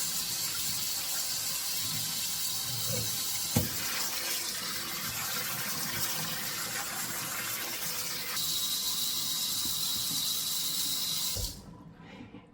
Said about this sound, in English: Rinse this pot out. Rinse these.